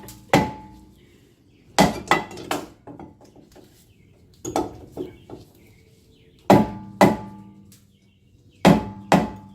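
A hammer striking the brake rotor of a 2010 Nissan Murano to loosen it gives loud, sharp metallic blows in clusters of two or three, separated by brief pauses, close and clear.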